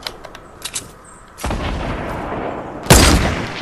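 Sniper fire in the Fortnite video game: a few faint clicks, then two loud booming shots about a second and a half apart, each followed by a lingering rumbling tail, with no talking.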